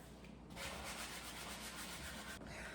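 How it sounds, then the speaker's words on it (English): Steady, soft sanding rubs across a wooden kitchen cabinet, a continuous scratchy hiss lasting about two seconds before stopping abruptly. "I think I'll just like really, really quickly sand over these marks everywhere."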